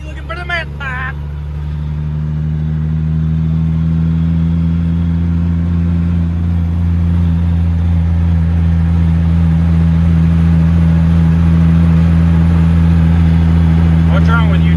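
A Ford L9000 dump truck's diesel engine runs steadily and loud throughout, a deep sustained drone with a slight rise early on, while a voice speaks briefly at the start and end.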